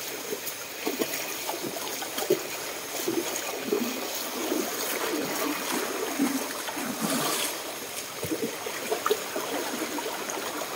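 Strong flowing water of the Lipit river, a dense steady rushing and churning wash, loud and close, filling the whole stretch without pause.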